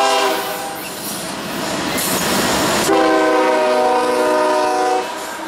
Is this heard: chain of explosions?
no